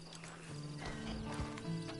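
Horse hooves clip-clop with a short whinny in the Red Dead Redemption 2 video game, fairly quiet but steady, with a thud of movement and no talk over it.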